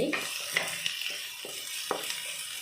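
Onions fry in a pan for baingan bharta, giving a soft, close sizzle broken by a few scraping stirs of a spatula.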